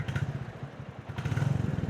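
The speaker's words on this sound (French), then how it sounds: "le bruit qui est effectivement très différent de la moto que j'avais avant" Royal Enfield Bullet 350 motorcycle engine in Singapore, a close, loud, low thumping idle with a steady rhythmic beat and slight clatter, heard alone.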